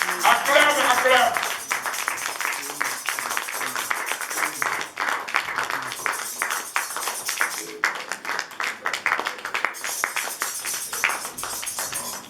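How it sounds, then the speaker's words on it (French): A church congregation at a Sunday service applauds, with dense clapping that is loudest at the start and then continues more loosely while people speak and call out over it. "pasteur Olivier, sous l'acclamation de tous."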